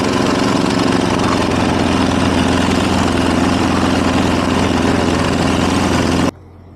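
A car engine idles steadily after a few inches of snow, a loud, even low rumble with no talk that runs on without pause, then cuts off abruptly near the end.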